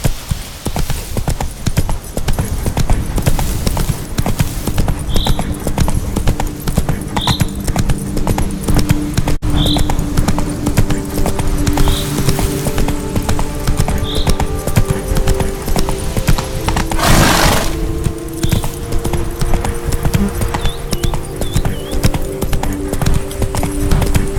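The horse Roach gallops in The Witcher 3, a steady loud clip-clop of hooves running on and on against a busy game soundscape with a faint, brief whinny.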